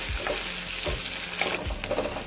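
Green chillies and garlic fry in oil, a continuous close sizzle broken by three or four low thuds and scrapes from stirring, without speech.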